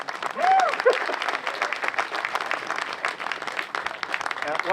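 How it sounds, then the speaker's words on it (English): Audience applause at a US Army garrison change of command ceremony in Stuttgart, a steady wash of many hands clapping outdoors throughout, moderately loud and continuous with a brief tonal chirp early on. "thank you for the applause"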